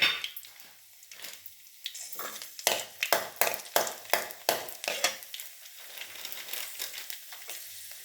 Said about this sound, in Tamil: நல்லெண்ணெய் சுட்டதும் கறிவடகத்தை தாளிக்கணும்